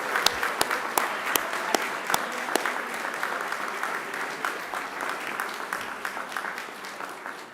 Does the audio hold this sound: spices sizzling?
no